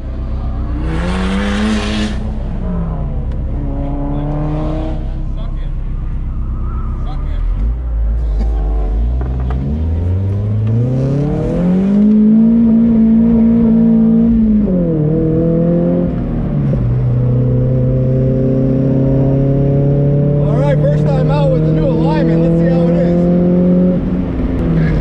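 A car driven hard around a race track with street-and-track alignment: the loud, close engine climbs and falls through repeated revs and gear changes, with a steady rumble and wind noise running the whole way.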